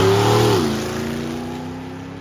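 A super stock drag car launches and pulls away down the drag strip, its loud engine note dropping in pitch as it recedes and fades steadily into the distance.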